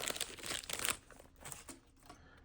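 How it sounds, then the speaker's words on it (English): Foil wrapper of a Panini Zenith four-pack of football trading cards being crinkled and torn open, a quick burst of close, quiet crackling that fades to softer rustles. "Let's go ahead and open this first. This is a 4-pack of Zenith cards."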